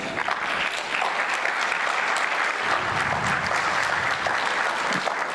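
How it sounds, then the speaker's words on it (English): A conference audience applauds at a blockchain event, dense steady clapping filling the room from start to finish at an even, moderately loud level. "So let's have a round of applause."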